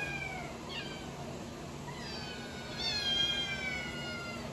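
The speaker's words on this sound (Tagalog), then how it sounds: "Yan may mga pusa po namin." Several cats meow one after another at close range, high and drawn-out calls with a faint hum of background noise underneath.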